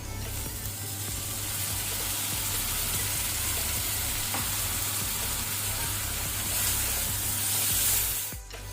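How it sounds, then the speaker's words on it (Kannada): Frozen peas and corn drop into a hot pan for rice sevai upma, setting off a loud, steady frying sizzle with faint stirring scrapes that holds throughout. "ನಾನಿಲ್ಲಿ ಸ್ವಲ್ಪ ಫ್ರೋಝನ್ ವಟಾಣ, ಸ್ವಲ್ಪ ಫ್ರೋಝನ್ ಕಾರ್ನ್ ತಗೊಂಡಿದ್ದೇನೆ. ಸೊ ಇದನ್ನು ಹಾಕೊಳ್ತೇನೆ."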